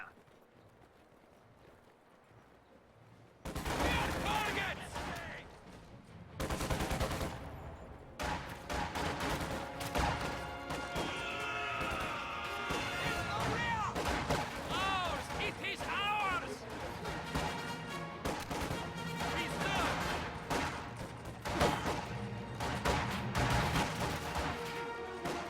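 Bursts of rifle and machine-gun fire crackle through a Company of Heroes match against a busy battle soundscape, with a commentator talking over the shooting.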